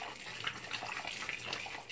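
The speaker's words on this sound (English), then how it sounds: "Put my boiled water on it" Boiled water poured from a kettle onto chicken wings in a home kitchen, a steady close splashing stream running throughout without pause.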